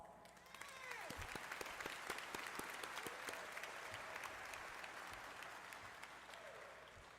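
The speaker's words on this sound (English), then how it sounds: "you deserve a round of applause" Applause fills a room at a college commencement ceremony, rising after a moment and holding steady, fairly faint and distant overall, with a few sharper claps and a brief voice near the start.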